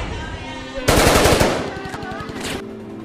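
Heavy-weapons gunfire from Axis troops crackles in a loud, rapid machine-gun burst that erupts suddenly and then rattles on as quicker, fading volleys over a low rumble.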